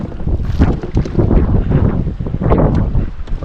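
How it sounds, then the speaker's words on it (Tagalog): Strong sea waves and gusting wind surround a small fishing boat. The sound is a loud, continuous buffeting roar with surging swells and no talk. "medyo talaga talagang malakas-lakas ang alon"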